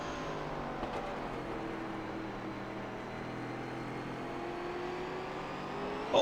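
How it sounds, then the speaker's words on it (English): Stock car engine at full power in a racing video game, heard from the roof of the 97 car at an SRX race at Thompson Speedway, a steady loud droning roar with layered engine harmonics that holds throughout and swells slightly at the end. "From the roof of the 97 car, you can hear all the horsepower trying to get down."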